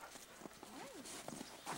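A horse walks with soft, irregular hoof clip-clops on the ground, faint and nearby, with a low whinny-like tonal sweep and light background activity.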